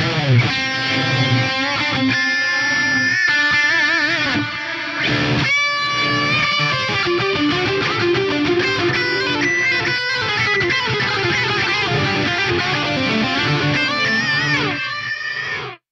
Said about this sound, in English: Here's a reverse reverb.